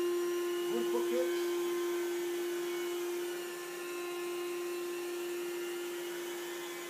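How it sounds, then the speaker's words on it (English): A rotary vacuum machine for professional carpet restoration hums steadily throughout at close range, a constant tonal motor drone that dips slightly midway, with a brief burst of talk over it near the start. "The rotor vacuum."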